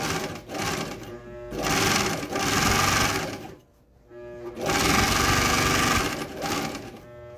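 A straight-stitch sewing machine runs through thick sofa-cover fabric in several loud, rapid whirring bursts, stopping briefly in between, heard up close with no talk.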